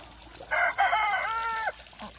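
A rooster crows loudly and close by in a backyard flock that includes speckled Sussex and California white hens, one long crow with a short cluck before and after it.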